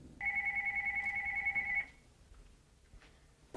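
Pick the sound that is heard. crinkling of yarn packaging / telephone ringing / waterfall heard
telephone ringing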